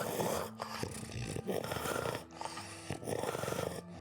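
Gretchen the dog growls and snarls in the Scarlet Hollow video game, in repeated throaty, rumbling bursts with short breaths between them. The sound is close and moderately loud.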